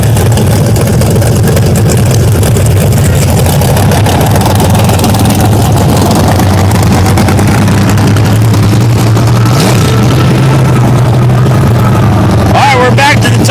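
A race truck's engine roars at a mud bog race in Orangeburg, a heavy, loud, low rumble that keeps going under crowd noise and announcer chatter.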